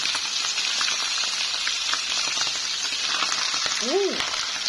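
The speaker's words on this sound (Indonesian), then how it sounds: "Ini dulu ya, ayam goreng dulu" Chicken frying in hot oil gives a loud, steady sizzle and crackle, with a brief vocal sound near the end.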